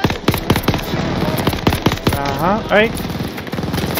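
Rapid automatic gunfire in the Call of Duty Vanguard video game, dense repeated bursts running almost throughout, loud and close, with someone speaking briefly over it.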